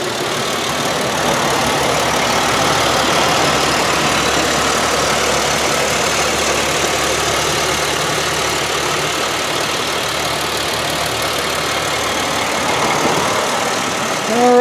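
A 2005 Chevy Malibu LS engine idles steadily and loudly nearby, a constant rumbling drone with a faint rhythmic ticking, running unchanged for the whole stretch without any talking.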